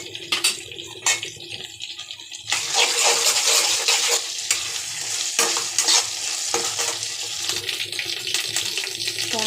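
Ground ginger, cumin and green chili paste hitting frying potato and capsicum, a few clinks of the utensil first and then a louder, sustained sizzle with steady stirring scrapes, close up and without talking.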